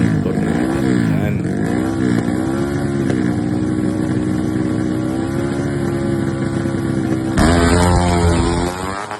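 A Honda Nice 125 drag bike roars on a test run at a drag strip in Thailand, its loud engine holding a steady high rev with rising and falling pitch, then surging louder near the end before cutting off.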